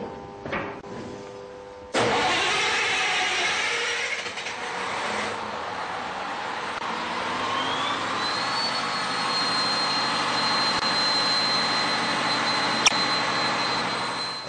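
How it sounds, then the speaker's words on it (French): A river boat's diesel generator set cranks and starts, settling into a loud steady running drone with a rising whine, heard alone without talk. "Le groupe électrogène pour commencer."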